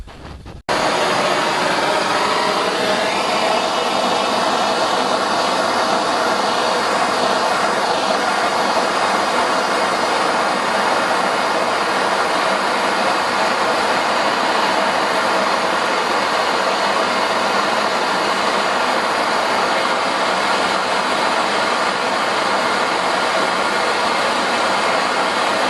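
Brazing torch roaring with a steady, loud, broadband hiss as it heats a fluxed joint held square by a 3mm bolt, starting abruptly after a brief click and holding unchanged for the rest.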